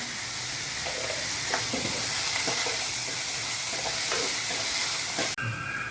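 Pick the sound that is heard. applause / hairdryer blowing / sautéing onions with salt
sautéing onions with salt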